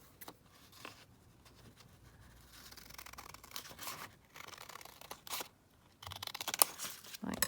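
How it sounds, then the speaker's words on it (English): Scissors trim junk journal paper pieces, heard as faint, close, intermittent snips and rustles of paper, growing a little busier toward the end. "So I'm going to just trim them down about here."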